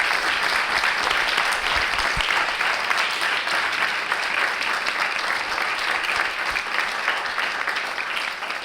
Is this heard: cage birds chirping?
no